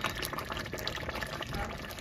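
Hot water from a kettle pours into a pot of rice to boil it, giving a steady, close splashing and gurgling stream that runs continuously for the full two seconds.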